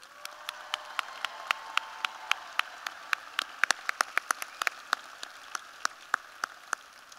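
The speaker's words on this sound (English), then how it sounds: "Can we give a round of applause for Taryn?" Sparse, scattered hand claps ring out at a college commencement ceremony, sharp individual slaps spaced irregularly, sometimes bunching together, fairly faint against a quiet hall.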